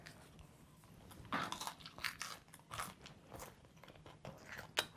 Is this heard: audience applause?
no